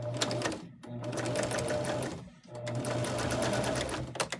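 Sewing machine stitching a seam on a patchwork pillowcase cover, a close, rapid mechanical whir in two runs separated by short pauses, with no one speaking.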